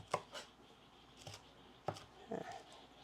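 A knife chops large-leafed homegrown salad greens on a board in a few scattered, crisp strokes, some in quick pairs, fairly close and otherwise quiet.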